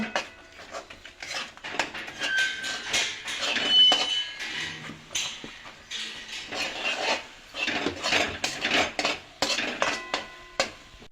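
Rice flour being slowly stirred into hot water to form a dough for golap pitha, with repeated scraping and clinking of a utensil against a bowl or pan, irregular and close, with no talk.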